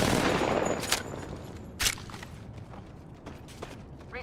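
Rapid gunfire in a sci-fi shooter video game is aimed at the player and rattles in continuous bursts. A few sharper cracks and mechanical clanks stand out over a dense, noisy background.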